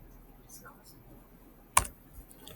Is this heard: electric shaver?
no